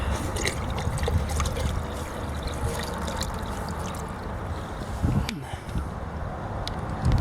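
Water trickles and pours steadily through an aquarium internal filter with a sump, a continuous close, gurgling flow with a few small splashes and no voices.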